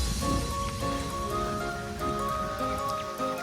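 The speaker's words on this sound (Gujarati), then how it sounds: "કેવી મજા આવે છે વરસાદમાં." Rain falls on Datar mountain near Junagadh, a soft steady patter of drops heard close by, with faint tonal sounds running through it.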